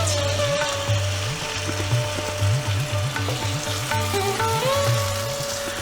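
Mutton sizzles in hot oil with onion paste and fried onions while being stirred with repeated scraping strokes, a steady close frying hiss, and no talking.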